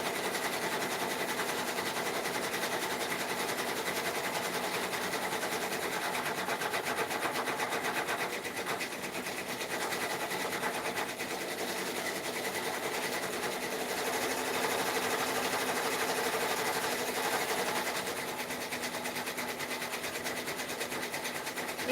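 A six-needle embroidery machine stitches steadily at a moderate distance, producing a fast, even mechanical whir and patter that holds constant throughout without talk.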